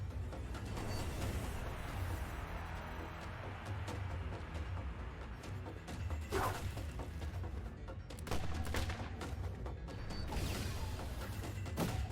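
Rapid bursts of gunfire and mechanical clatter from the NieR Re[in]carnation video game, steady and dense throughout with occasional louder crashing hits, no talking.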